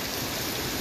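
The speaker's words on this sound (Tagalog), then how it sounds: "ngayon medyo malakas na hangin at may kasamang malakas na ulan" Strong rain driven by wind during a storm, a dense steady hiss of heavy rainfall with no pauses, broadband and continuous.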